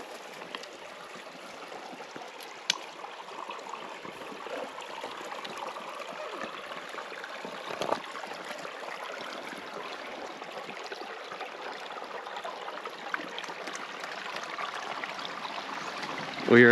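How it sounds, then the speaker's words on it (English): Water flowing over the top of a waterfall and along a rocky creek in a canyon near Williams, Arizona, a faint steady rushing wash with a few small knocks. "We are standing at the very top of a waterfall."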